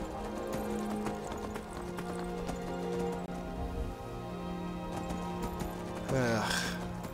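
Horse hooves clip-clop in a steady rhythm while riding in the video game Skyrim, over a faint ambient bed, with a horse whinny rising near the end.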